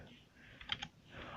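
A few quick key clicks on a Logitech K480 Bluetooth keyboard, close and faint, in a short burst over quiet room noise.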